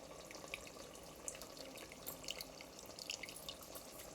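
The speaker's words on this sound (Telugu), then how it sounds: "ఇప్పుడు చింతపండు పులుసు పోసుకోవాలి." Tamarind juice is poured into a pot of fish pulusu, giving a soft, continuous liquid trickle with small splashy drips, low in level and heard alone.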